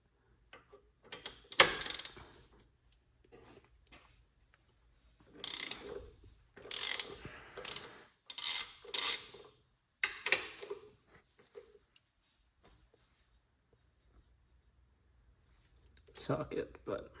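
A large socket ratchet cracking loose the transmission mount bolts on a VW MK7 GTI: bursts of fast ratcheting clicks with pauses between, close up, with someone talking in between.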